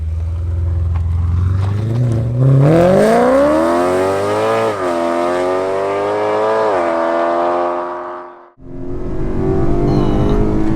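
A BMW M3 V8 engine in a BMW 135i revs loud and close, its pitch climbing through the gears of its DCT gearbox under acceleration before dropping off sharply into a lower rumble.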